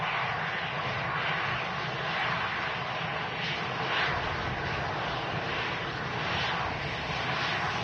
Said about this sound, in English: Sun Express heading back to Antalya with Sun Express Flight 5 will be visible soon.